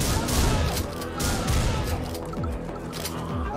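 Gunfire in the fast-paced shooter game Butcher crackles in dense, loud bursts of rapid shots that overlap with crashes and impacts, continuing throughout without a pause.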